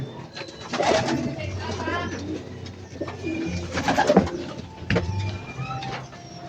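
Racing pigeons at a derby race loft coo in repeated low, throaty rolling calls at close range, interleaved with other bird sounds and faint background voices.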